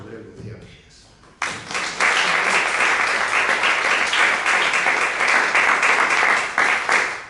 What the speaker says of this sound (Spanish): Un fuerte aplauso para recibir a José Manuel Lucía Mejías.